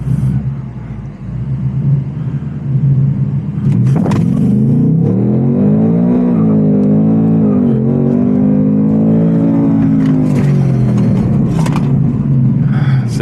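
A 2025 Ford Mustang Dark Horse with a 500 hp V8 launches hard, its loud engine note climbing through rising revs with gear changes and a deep rumble, heard from inside the car.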